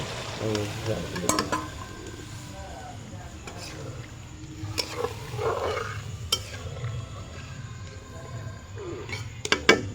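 Curry with yogurt and water bubbles and sizzles softly in a pan, a low continuous simmer with occasional utensil clinks, faint and close, with a little background voice.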